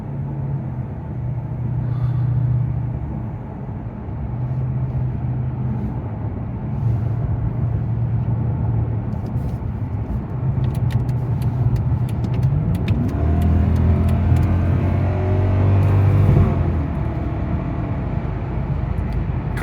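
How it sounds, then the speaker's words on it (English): A 2009 Mercedes-Benz CL63 AMG (W216) rolls through weekday rush-hour traffic, its engine droning low through gear changes, then rising in a strong, sweeping surge of acceleration with a deep rumble, heard close from inside the cabin without talk. "Car definitely has no problem getting up and going."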